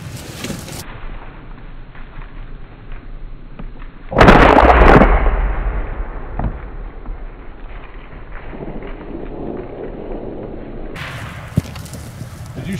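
A single loud shotgun blast rings out at a duck hunt in northern Canada, its boom decaying over a second or two amid open outdoor ambience, with a fainter sharp crack near the end.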